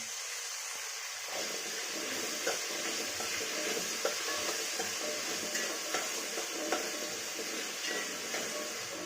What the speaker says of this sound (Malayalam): ഉള്ളി ഉപ്പിട്ട് വഴറ്റിയാൽ പെട്ടെന്ന് വാടും